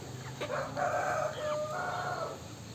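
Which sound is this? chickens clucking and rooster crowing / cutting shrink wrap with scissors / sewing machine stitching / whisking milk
chickens clucking and rooster crowing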